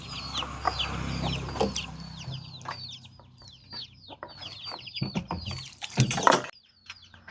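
Chickens cluck and chatter close by on a farm, with irregular bursts of calls over a low engine-like drone that stops partway through, then a louder burst of squawking and scuffling near the end.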